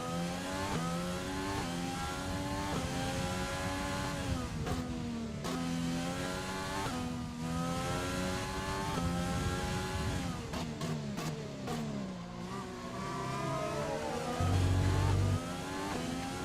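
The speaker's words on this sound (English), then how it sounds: "You might just hear the noise of their engines over mine as I'm going through." Race car engines in a Bahrain racing video game, a steady loud engine drone with rising and falling harmonic pitch sweeps as cars accelerate and shift, continuous throughout with a brief deeper low rumble near the end.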